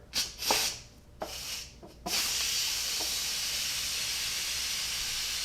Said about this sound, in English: So we're gonna go ahead and release our steam.